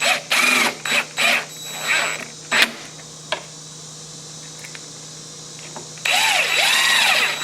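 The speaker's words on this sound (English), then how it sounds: "this is secured just by replacing those 2 screws that were taken out previously." Screws are driven in to secure a Schlage Encode smart lock, with short bursts of a whirring power driver that stop and start, then a longer final run, against a quiet room hum.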